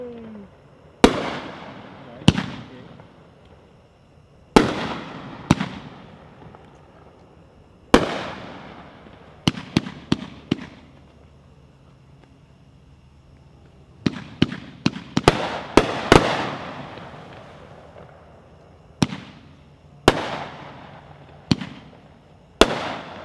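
A 20-shot fireworks cake fires at a fireworks association convention demo, sharp bursts and crackling pops arriving in irregular clusters, loud and close, each shot trailing off into a brief echo before the next volley.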